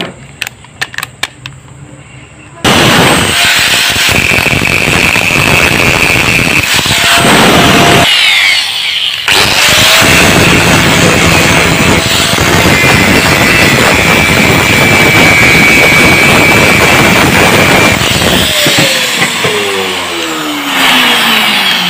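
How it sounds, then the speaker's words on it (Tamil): An angle grinder cuts a groove along a crack in a weld. After a brief quieter start, it whines loud and harsh for nearly twenty seconds, its pitch wavering as it bites into the metal, then it spins down. "இப்போ பார்த்தீங்கன்னா இந்த மேலே வந்து கிரைண்டிங் பண்ணிவிட்டு நான் உங்கள்கிட்ட காட்டுறேன் வீடியோவில்"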